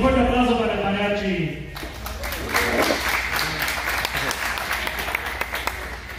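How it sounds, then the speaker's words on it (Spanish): At a quinceañera, a voice speaks over music before a crowd breaks into strong applause for the mariachi band, with dense clapping continuing for several seconds. "Un fuerte aplauso para el mariachi."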